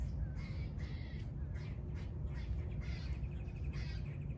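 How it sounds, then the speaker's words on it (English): Several crows caw in repeated bursts over a steady low outdoor rumble, with fainter calls from other birds mixed in. "Ooh, all these beautiful birds."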